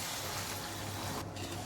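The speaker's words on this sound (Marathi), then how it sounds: "त्यामध्ये आपण 3 वाट्या गरम पाणी ओतणार आहे" Hot water poured into a pan of soaked, sautéed rice, a faint steady rushing gush for under two seconds.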